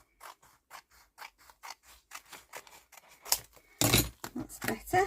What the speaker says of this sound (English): I'm going to have to really try and cut this straight or straighter.